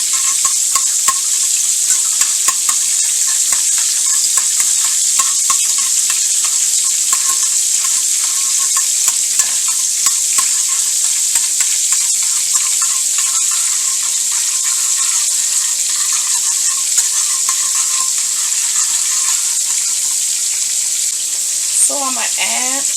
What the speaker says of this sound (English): I'm melting a half a stick of butter.